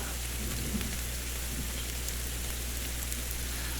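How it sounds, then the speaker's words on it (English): Steady rain pours down in the Sons of the Forest video game, a dense continuous hiss with a low rumble of thunder underneath, even and unbroken throughout with no voices. "Hopefully the rain lets up."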